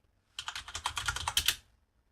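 A short burst of quick keystrokes on a computer keyboard, about a dozen crisp clicks in just over a second, is heard close and alone as a Linux terminal command is typed.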